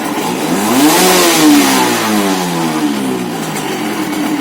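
A motorcycle engine rises sharply in pitch as the throttle opens, then eases back down to a steady, even run. The engine is close and loud, and no one speaks.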